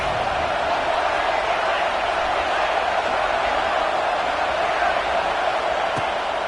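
A football stadium crowd roars continuously on third down, a loud, dense wall of noise with no pauses.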